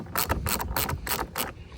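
Ratchet with a 13 mm socket loosening a bolt on a Ryobi lawnmower: several quick bursts of ratchet clicking, close and clear, in an even back-and-forth rhythm with brief pauses between strokes.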